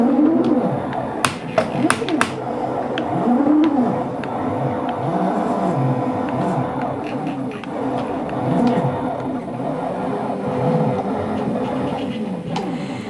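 A homemade robot arm axis without limit switches moves with repeated rising and falling motor whines and scraping, mid-level and close, with a few sharp clicks early on.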